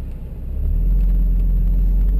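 A red car passes on the Splügen Pass mountain road. Its engine rumble swells from moderate to loud and close within half a second, then holds as a heavy low drone.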